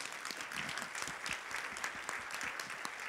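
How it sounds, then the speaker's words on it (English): Conference audience applauding the MDF at its 2018 annual meeting; steady, even clapping from a sizeable room, moderately distant and unbroken by speech. "I think we should have a round of applause for MDF"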